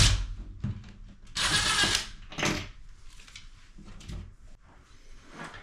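A screw is backed out of a wall stud during a bathroom towel bar swap, giving a few short scraping, ratcheting turns and clicks, close and fairly quiet, with pauses between the bursts.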